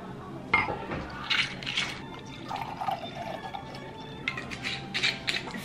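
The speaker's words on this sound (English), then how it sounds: "I'm gonna pour my glass of wine before we get started." Wine poured into a glass at close range, with a gurgling stream in short bursts, a few drips and light glassy clinks, quiet and without talk.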